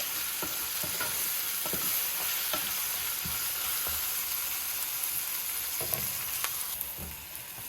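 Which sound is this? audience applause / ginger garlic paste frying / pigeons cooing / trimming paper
ginger garlic paste frying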